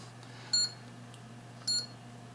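A Chinese power supply tester gives two short, sharp electronic beeps about a second apart, clear and close over a faint steady hum.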